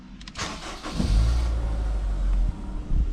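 A Honda S2000 with about 80,000 miles, a wrecked car under rebuild, cranks briefly and fires, settling into a loud, close, steady idle with a small blip of revs near the end.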